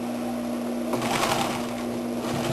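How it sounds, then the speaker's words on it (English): A sewing machine runs continuously at close range, stitching a French seam on denim jeans with a steady mechanical hum. "I'm stitching. I'm making another French seam."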